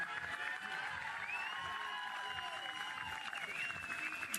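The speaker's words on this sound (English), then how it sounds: "Look at that crowd, give them a little love." Softball stadium crowd at a professional game applauding steadily, a broad sustained wash of clapping with bright whistles and cheers threaded through, fairly loud and continuous throughout.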